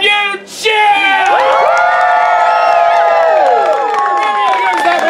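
Audience cheering and whooping at a live Romeo and Juliet children's theatre show, a loud burst of many voices swelling after a brief quiet start and holding steady, with shrill high-pitched shouts layered over the crowd.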